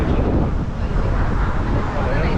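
Strong wind buffets a microphone outdoors near a pier in The Hague, a loud continuous rumbling roar that fills the whole moment with no gaps.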